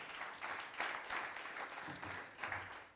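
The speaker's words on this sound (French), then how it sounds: "Vous pouvez l'applaudir également." Applause from a conference audience for a speaker being introduced, a moderately distant, steady wash of many hands clapping that swells and eases over a few seconds.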